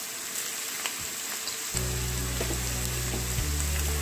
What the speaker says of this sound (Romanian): Carnea tocată trebuie să o rumenim puțin